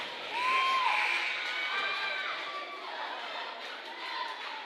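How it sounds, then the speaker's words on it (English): Home crowd at a girls' high school basketball game cheering as fans rise to their feet, a loud sustained roar with whoops and high shouts, while a commentator talks over it. "Lady Rebel crowd on its feet on the near side."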